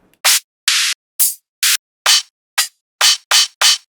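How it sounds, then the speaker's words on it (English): Nine crisp open hi-hat one-shots from a drum sample library play one after another, each a bright, loud metallic hiss cut off cleanly, spaced at a quick irregular pace with silence between hits. "now I want to find a nice open hat shot"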